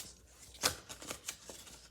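Tarot cards are shuffled close by in soft papery riffles and taps, a few quick flutters spaced irregularly over a quiet background.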